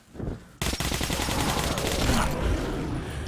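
Video game gunfire in Metro Last Light Redux: a brief burst, then after a short pause sustained rapid automatic shots run through to the end, loud and close.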